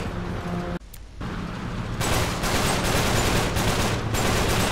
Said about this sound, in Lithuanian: the shooting is hard